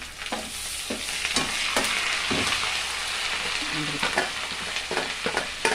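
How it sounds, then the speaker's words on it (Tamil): Chopped ginger, green chillies and curry leaves sizzle in a frying pan, with a steady crackling fry broken by repeated stirring scrapes and clinks, and a voice faintly in the background. "ரொம்ப பொரிய விடாதீங்க ரொம்ப பொரிஞ்சால் நல்லா இருக்காது"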